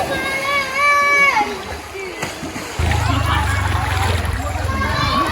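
People splash and slosh while bathing in a clear, cold river after fruit picking in a farm area, close watery splashes under lively talk, then a steadier wash of moving water.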